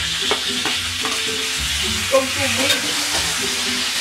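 Potatoes stirred into a sizzling pan of frying chicken and squid with cabbage, steady close frying hiss under scraping stirs and a few utensil knocks, no talking.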